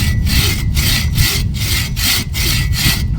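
A Boreal 21 folding buck saw cuts through very soft wood in quick, regular push-pull strokes, each rasping pass loud and close, with brief gaps where the stroke reverses.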